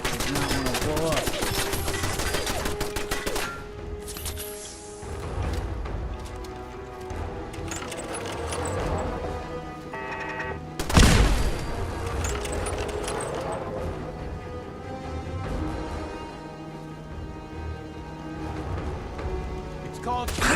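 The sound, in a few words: turret firing in the video game Fallout 4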